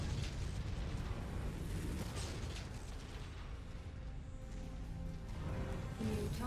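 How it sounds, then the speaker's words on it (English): Missile explosions erupt in MechWarrior 5: Mercenaries, a dense, continuous roar of blasts and rumbling booms filling the whole stretch, loud and close, with a fresh burst near the end. "Incoming missile."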